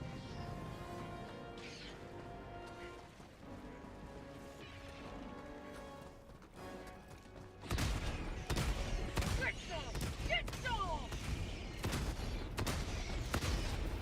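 Explosions and gunfire in the video game Helldivers 2, a steady muffled din of battle that turns into louder, sharper bursts of shots and blasts halfway through, continuing without pause.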